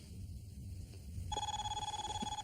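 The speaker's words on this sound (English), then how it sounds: "Come on, Sidney, answer the phone. Are you going to answer it, or shall I" A telephone bell starts ringing partway through, a steady electronic trill with a bright repeating pulse, fairly close and loud over a low room hum.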